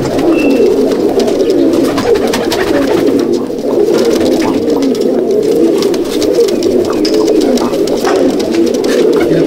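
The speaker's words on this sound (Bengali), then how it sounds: "হচ্ছে আমার ঘরের কালাঙ্কা পায়রা," Madrasi Kalanka pigeons at a loft in Halisahar, North 24 Parganas, fill the air with steady, loud, close cooing and a dense, continuous flock murmur, without any talk.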